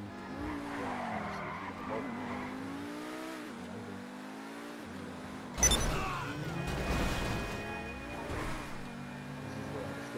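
Car driving through GTA V with a steady engine drone that builds into revving and a sharp tire skid midway, a loud burst of squealing and scraping, with talk running over it.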